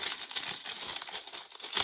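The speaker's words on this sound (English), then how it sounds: "sorry for the crinkling noise." Plastic crinkles and rustles in quick, uneven bursts close by, soft and continuous, with no voices.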